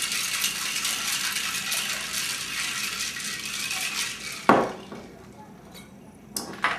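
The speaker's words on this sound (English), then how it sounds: "I like to shake." Cocktail shaker with a vodka martini shaken hard, a steady dense rattle of ice against metal that stops abruptly, followed by a sharp clink and a few quieter knocks.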